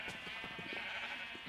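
Sheep in a video game bleating in a short burst of several quick, close bleats over a steady high background tone.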